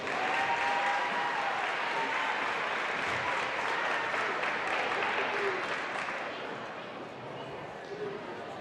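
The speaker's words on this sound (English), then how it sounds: "let's give a big round of applause for our senior Greenwood cheerleaders" Crowd applause in a gym during a high school basketball game, a dense sustained wash of clapping and cheering that eases off toward the end.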